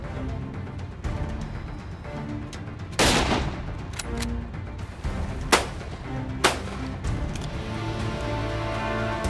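Shotgun fire at a clay and running boar shooting contest at the Nîmes Shooting Club: several loud, sharp blasts at irregular intervals over steady outdoor background noise.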